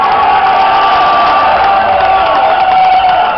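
A large crowd cheers and shouts at a bass fishing tournament on the Delaware River, a loud, dense roar of voices and whoops that holds steady throughout.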